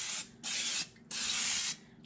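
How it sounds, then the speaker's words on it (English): Cooking oil sprayed onto a pan before pressure canning tomato sauce: three close, loud hissing bursts from an aerosol can, each about half a second long, with short gaps between them and no talking. "First, I think I'm going to spray it just a little bit."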